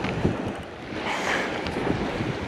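Steady wind rushes across a beach during surf fishing, buffeting the microphone with rumbling gusts over distant breaking surf, continuous and fairly loud throughout with no talk.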